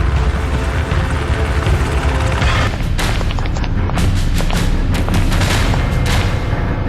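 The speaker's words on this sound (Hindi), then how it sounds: "दूसरा हेलीकॉप्टर हवेली के ठीक ऊपर आकर आसमान में ठहर जाता है" Helicopter hovering low over a mansion during a commando raid, a loud, steady rotor roar thick with low-end thump, with sharp bursts and cracks breaking through in the second half.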